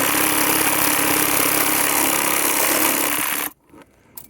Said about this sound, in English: Taking a hammer, hitting each board a little bit, and then running the sawzall, cutting all 3 nails.